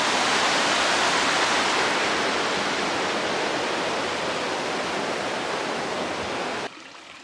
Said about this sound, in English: Here's the South Fork of Muddy Creek.